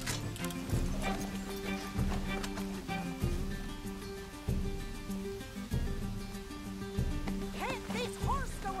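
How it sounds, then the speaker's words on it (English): Galloping horse hooves in Red Dead Redemption 2 pound in a steady rhythmic beat under dense game music and effects, with occasional voices over the chase. "Can't this horse go any faster?"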